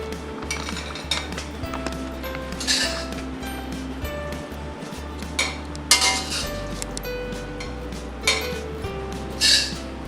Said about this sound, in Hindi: अब हम इसे प्लेट में निकाल लेंगे।